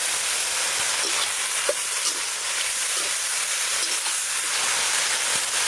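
Leafy greens (saag) sizzling and frying in a pan with salt added, a steady close hiss with occasional soft scrapes from stirring, no talking.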